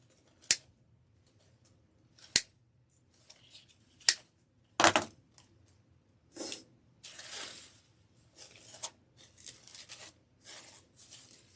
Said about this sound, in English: All right, let me cut off these ends.